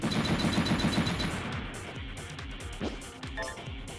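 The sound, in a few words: machine gun firing in video game Metal Saga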